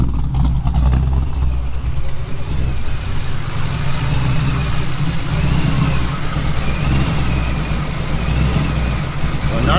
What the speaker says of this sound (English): The car's running in the background.